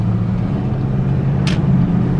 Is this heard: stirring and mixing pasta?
no